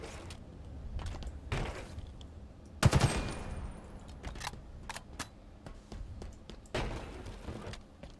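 Gunfire in the video game Halo Infinite during a ranked match: scattered rapid bursts and single shots at moderate distance, with one louder close burst midway, over quiet game ambience.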